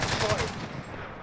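Gunfire in a video game crackles in rapid overlapping bursts, loud and close, for a brief moment.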